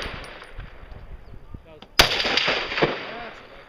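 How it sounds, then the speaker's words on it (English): A single loud rifle shot cracks at a practical rifle match outdoors among trees. The sharp report rings and echoes off the surroundings after quieter rustling and handling sounds. "I'm gonna shoot between the trees"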